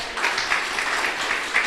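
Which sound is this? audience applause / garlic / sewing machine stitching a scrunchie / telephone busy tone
audience applause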